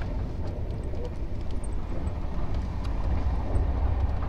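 An express train on the Bikaner to Howrah run, heard from inside as a steady, loud rumble of the rails and carriage with faint higher rattles, continuous and close throughout.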